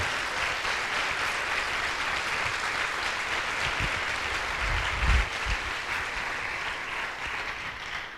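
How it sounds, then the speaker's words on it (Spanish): Church congregation applauding during a Sunday service, a steady wash of clapping from many hands that holds at an even level throughout, with a few low thumps near the middle. "denle un aplauso fuerte al Señor."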